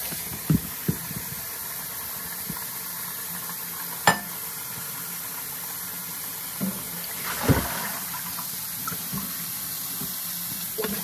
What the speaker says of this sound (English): I'm gonna just rinse them out